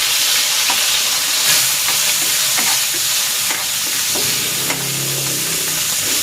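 Pork liver sizzling in a pan for menudo, a loud close hiss of frying with occasional stirring clicks and no speech.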